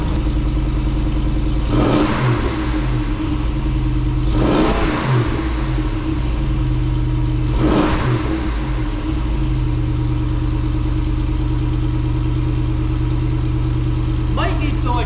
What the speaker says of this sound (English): Let me rev it up real quick for you so you can hear it.